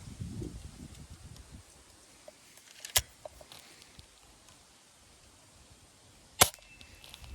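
Two sharp, snappy shots from a Hatsan 25 air rifle crack a few seconds apart against a quiet outdoor background with faint rustling.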